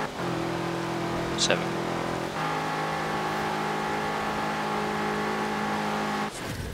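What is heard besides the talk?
2013 BMW M6 Coupe engine revving through gears, Forza Horizon 4 video game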